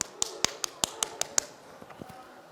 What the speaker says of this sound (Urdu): تالی مارنے کی ضرورت پڑے تو ایسے مارنی چاہیے۔